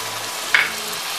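Fish curry masala sizzles in the pan after leftover water rinsed from the mixer is added, a steady close hiss with one brief louder bubbling spurt midway, and no talking.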